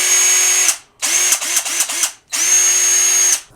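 A cordless 1/4 inch impact driver, recently repaired by welding, whirs loudly in three bursts, the middle one stuttering through several quick on-off pulses, with brief silences between runs.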